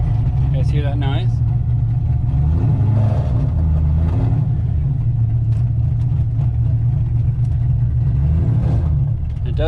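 A Corvette drift car with a suspected slipping clutch strains against its drivetrain, giving a loud, steady low engine drone with shifting harmonics that persists for the full stretch, partly overlaid by voices.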